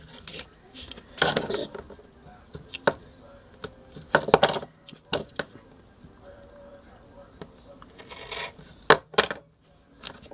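A blade cuts through two or three layers of duct tape along a marked line while making a wallet: intermittent close scratchy rasps and pops in short uneven bursts, with quieter gaps between.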